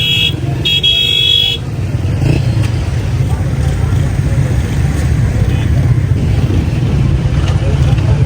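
Busy road traffic jam during the Basant festival, with a steady roar of car and motorcycle engines close by, a brief horn toot near the start, and voices mixed into the continuous rumble.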